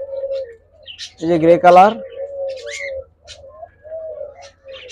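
Diamond doves at a dove farm give soft, low coos in short phrases, near and fairly clear, with faint chirps around them and someone talking briefly over the calls.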